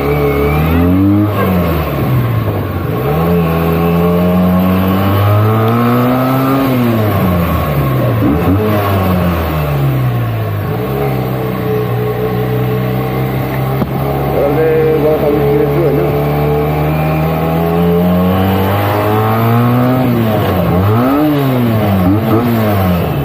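A stock-exhaust Benelli 302S motorcycle revs on a Kathmandu street, its engine note rising and falling repeatedly in loud, sustained sweeps close by, with no talk over it.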